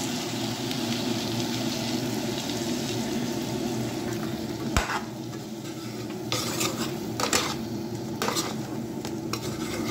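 Meat with curd gets stirred in a pan over a steady low sizzle, a spoon scraping and clinking against the metal with several sharp knocks toward the end.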